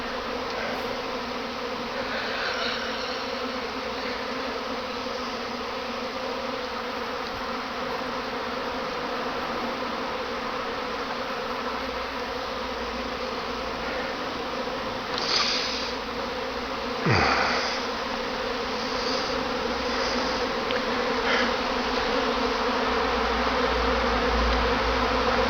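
A dense, continuous hum of swarming honeybees, recorded about two feet from the hive entrance, holds steady throughout, with occasional single bees droning closer past the microphone.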